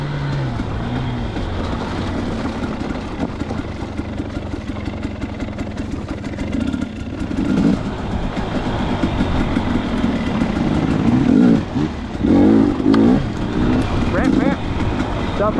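Dirt bike engine running steadily on a rocky trail with some snow on the ground, a continuous low mid-pitched drone that swells louder toward the end, with a voice talking over it.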